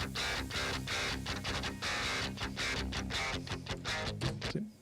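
Heavily distorted electric guitar played through a Nembrini PSA 1000 Junior SansAmp-style amp simulator, chugging rhythmic riffs with dense palm-muted attacks, loud and continuous with no talk.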